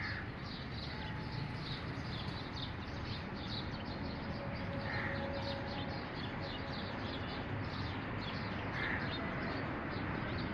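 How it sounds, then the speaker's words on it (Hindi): Birds calling from trees in the evening, crow-like caws and scattered chirps repeating over a steady, dense outdoor background, fairly distant and continuous with no talking. "शाम के टाइम मुझे चिड़ियों की आवाज़ बहुत पसंद आता है।"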